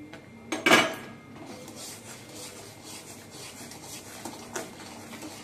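A spoon scrapes and rubs against the inside of a cooking pot while sugar is stirred into a boiling raw-mango mixture, with a sharp clatter near the start followed by steady, softer scraping strokes.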